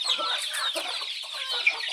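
Free-range country chickens crowd together to eat feed, a dense continuous chorus of overlapping clucks and chirps close by, with no talking.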